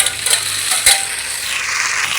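Chopped tomatoes dropped into a pan of onions sautéed golden brown for a fish curry, bringing a loud, steady sizzle with a couple of sharp scrapes of stirring.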